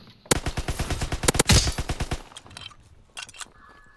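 Grease gun fire in the video game Call of Duty: WWII, heard during a team deathmatch. A long, loud run of evenly spaced automatic shots, then a few scattered quieter shots trailing off.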